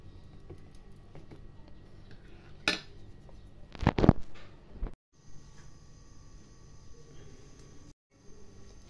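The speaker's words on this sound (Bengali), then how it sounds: "এবারে গ্যাসের উপরে একটা লোহার তাওয়া বসিয়ে দিয়েছি।" A heavy iron tawa set down on a gas stove, giving a sharp metallic clank followed by a cluster of louder scraping knocks, then quiet kitchen hum.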